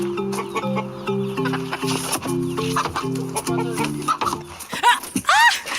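Chickens cluck and squawk in short bursts over a steady musical tone, with a voice partly overlapping near the end.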